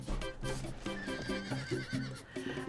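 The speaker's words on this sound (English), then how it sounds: "what are the horses over here?" Horses neigh in repeated whinnies, mixed with clip-clop hoofbeats, inside the Star Stable video game, all loud and close with no talk over them.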